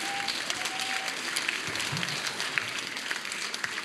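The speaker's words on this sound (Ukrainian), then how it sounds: "Империя искусств «Фарсайт» под ваши аплодисменты!" Audience applause at a regional princess beauty pageant, a steady patter of many hands clapping at moderate distance with no voices over it, continuing evenly throughout.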